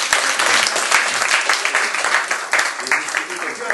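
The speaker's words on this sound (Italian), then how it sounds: "facciamo un applauso" An audience in a conversation event bursts into applause for a teacher, brisk clapping that rises and fades slightly while a voice carries on over it.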